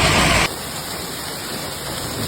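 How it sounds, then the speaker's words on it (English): Large hail pounding house roofs in an Alberta hailstorm: a dense, loud, continuous hiss of impacts that drops slightly in intensity after the first half second and then roars on steadily. "large hail hit the roofs of houses, shattered windows, and damaged dozens of vehicles parked outside"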